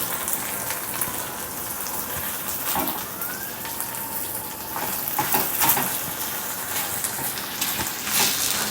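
Okra and onion cooking in a pan, a steady close sizzle and hiss of frying with occasional louder pops and crackles, heard alone without any voices.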